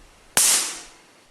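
A single sharp, loud crack from a homemade Leyden jar built from a bottle and tin foil discharging, sounding like a firecracker, with a short bright tail that fades quickly into quiet.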